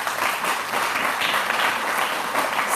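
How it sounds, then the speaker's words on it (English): A crowd applauds steadily throughout at a USS The Sullivans 80th anniversary celebration, a dense wash of many hands clapping at an even level. "Let's give him a round of applause."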